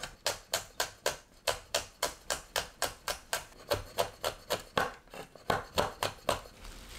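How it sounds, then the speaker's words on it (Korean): A knife chops red chili peppers on a cutting board in steady, rapid strokes, about twenty sharp close taps in a quick even rhythm with short pauses, no talking. "홍고추는 작게 썰어 주세요."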